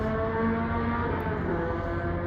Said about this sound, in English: You hear the motorcycle?